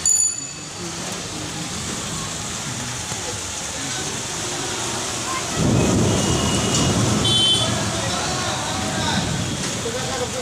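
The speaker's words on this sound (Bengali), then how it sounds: "বছরের প্রথম বৃষ্টি" Steady broadband rain of the first storm of the year in Kolkata after a record heat wave, with a low rumble of thunder swelling midway and continuing beneath the downpour.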